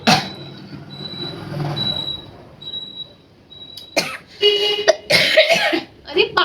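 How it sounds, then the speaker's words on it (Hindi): A person coughs in several loud, harsh bursts in the second half, following quieter background sounds, with some vocal noise mixed in. "मुझे इतनी खांसी आ रही है"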